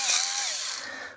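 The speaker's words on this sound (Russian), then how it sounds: "вон, видите, отверстие сверлит" A small drill fitted with a tiny hex-shank chuck bores a hole, a short high-pitched whine with a slight drop in pitch as the bit bites, close and fairly loud with no talking.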